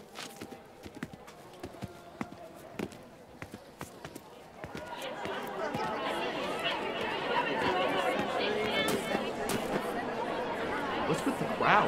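A crowd murmurs in the town of Port Rio, near Riverport Center, in the video game Below The Clouds. After a quiet stretch of sparse taps, the chatter swells to a steady, busy hubbub for the rest of the clip.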